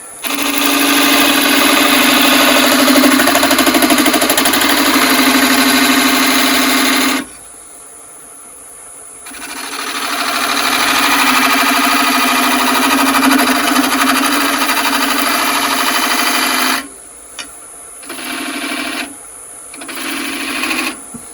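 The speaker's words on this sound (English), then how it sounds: "Get in there with the spindle gouge." Wood lathe turning a burr sweet chestnut bowl while a spindle gouge cuts, a loud continuous hum with steady scraping texture, broken by a pause around seven seconds and several short stops near the end; no talking.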